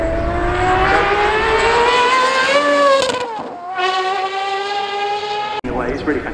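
A Gordon Murray Automotive car at the Goodwood Motor Circuit revs its engine hard, a loud rising whine that climbs, dips sharply and climbs again as it passes near, with speech faintly underneath.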